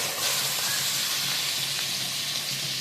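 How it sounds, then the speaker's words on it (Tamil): Four spoons of butter melt in a pan, giving a steady, even hiss and soft sizzle that stays constant and close, with no talk over it. "அது 4 ஸ்பூன் பட்டரு நல்லா மெல்ட் ஆகிடுச்சு."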